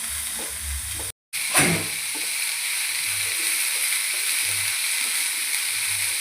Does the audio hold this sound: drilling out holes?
no